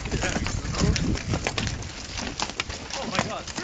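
Horse hooves clop steadily at a walking pace close by, mixed with outdoor noise and occasional voices.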